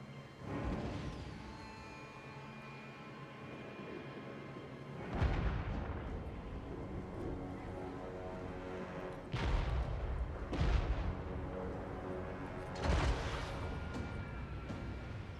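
Artillery cannons boom in the Total War Warhammer 3 battle, several heavy shots landing at irregular intervals over a low, continuous battlefield rumble.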